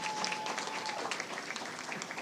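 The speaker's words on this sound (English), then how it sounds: "Jaquan, yes, you can clap" Audience clapping at a national secondary schools public speaking competition, a steady wash of many hands heard alone through the short stretch, moderately loud and even.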